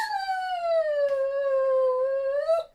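A dog howls indoors in a house, one long sustained, slightly falling tonal wail with a brief break in the middle, loud and close with no talk.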